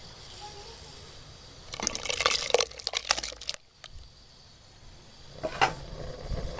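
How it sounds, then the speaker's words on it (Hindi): Soaked sabudana tapioca pearls tipped into a pot of boiling milk, giving a burst of wet splashing and crackling for about two seconds, then quiet bubbling and a brief second splash near the end. "अब इसके अंदर साबूदाना डाल देते हैं जो हमने भिगो के रखा"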